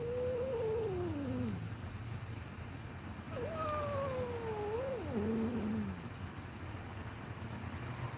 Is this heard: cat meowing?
yes